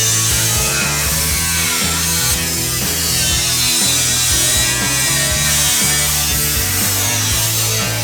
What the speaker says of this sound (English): I'll then probably cut a good section out of the bonnet bracing up on the 79 bonnet